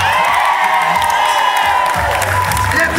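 Wedding guests at a lakeview pavilion reception applaud and cheer loudly and continuously, with whoops and shouts rising over the dense clapping throughout.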